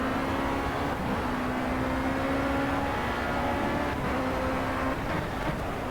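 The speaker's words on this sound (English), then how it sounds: "and breaking down 3 gears." Formula C race car braking hard and downshifting three gears through the Monaco swimming pool chicane in a racing video game, a steady engine drone with shifting whining tones that step down in pitch, continuous and close.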